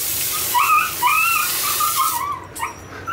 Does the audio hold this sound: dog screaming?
yes